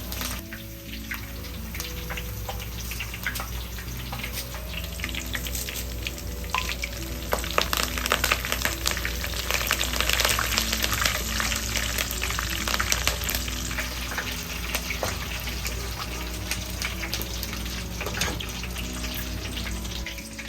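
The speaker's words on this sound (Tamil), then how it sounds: "நமக்கு தேவையான கருவேப்பிலையை நீங்கள் எடுத்து அதை பொரிச்சிருங்க எண்ணெயில்." Curry leaves fry in hot oil while making a savoury snack mixture, with a loud, continuous crackling sizzle that swells in the middle and carries on steadily, no voices present.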